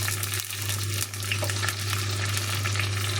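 Crushed shallots, chopped green chili and curry leaves sizzle steadily in hot oil for a Kerala fish curry with coconut and mango, loud and close, with a brief stirring scrape partway through.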